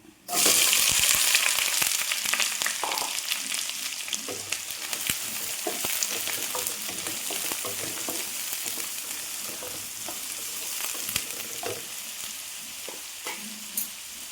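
Chopped onion sizzles loudly in hot oil in a pan for vegetable rava upma, a steady close frying hiss with scattered stirring clatter throughout and no voices.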